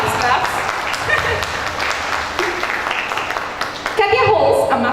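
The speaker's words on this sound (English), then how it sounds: "Claps." Seminar audience clapping for a speaker being introduced, a steady patter of many hands in a hall with voices talking over and around it, ending in a louder burst of claps.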